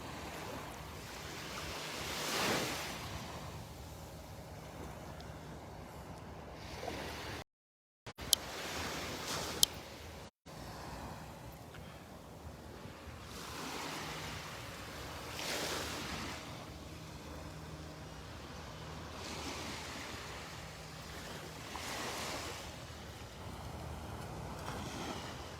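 Surf washing onto the beach at Delnor-Wiggins, a steady wash of breaking waves rising and falling in repeated surges over wind noise, with a couple of brief dropouts and no voices.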